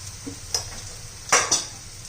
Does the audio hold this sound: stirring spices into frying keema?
yes